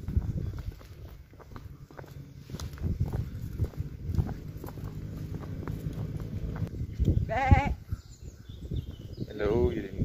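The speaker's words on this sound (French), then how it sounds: "Et là-haut, il y a les moutons." Sheep on a high mountain hillside, black ones with bells, give a couple of wavering bleats partway through, amid footsteps and people talking nearby.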